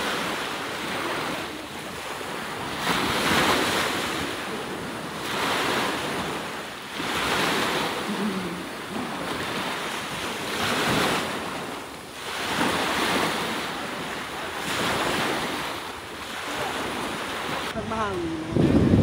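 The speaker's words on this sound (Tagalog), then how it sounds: "malakas yung hangin" Strong wind buffets the microphone over rolling surf at Ajman Beach in the UAE, gusts swelling and fading every few seconds in a continuous roar.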